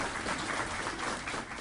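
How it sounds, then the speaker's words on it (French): Audience at a ceremony launching the AGOA commission in Côte d'Ivoire applauds steadily, a dense, even wash of clapping from a seated crowd with no voices over it. "Je vous demande d'applaudir"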